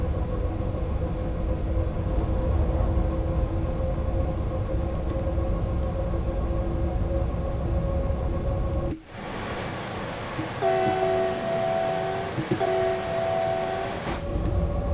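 DB BR 101 electric locomotive at half throttle on the flat Bremen–Oldenburg line in Train Sim World 6: a steady rolling rumble and motor hum throughout. A brief dip and shift comes partway, then sustained tonal horn-like notes sound twice over the running noise.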